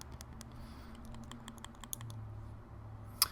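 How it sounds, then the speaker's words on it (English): Buttons on a Council of Vapor Mini Volt box mod pressed repeatedly, a close run of quick, crisp clicks with one sharper click at the end. "The buttons, very nice and clicky."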